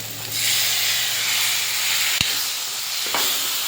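Chopped cauliflower and potato dropped into hot oil, bursting into a loud, continuous hiss and sizzle that holds steady, with a couple of sharp clicks from the pan.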